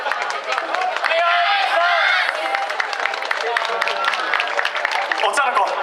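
Audience at an outdoor festival stage clapping along before a yosakoi dance performance, steady dense rhythmic claps from a crowd mixed with chatter and a voice talking over it.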